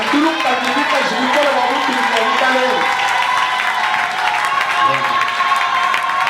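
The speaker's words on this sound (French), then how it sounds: "acclame encore très fort pour la part du Seigneur" A church congregation claps and cheers loudly, dense sustained applause filling the space, with a voice speaking over it at the start.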